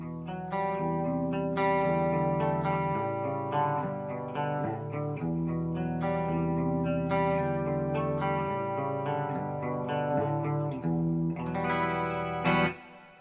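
Guitar played through a Quilter 101 Reverb Mini Head amplifier with deep reverb set around half, sustained chords and notes blooming into a wash of echoing decay, loud and close, with no talking.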